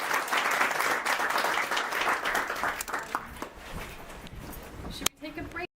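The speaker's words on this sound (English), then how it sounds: "round of applause first" Audience applause at a postgraduate symposium, a dense burst of many hands clapping that holds for a few seconds, thins out and stops, followed by a brief thud and faint room noise.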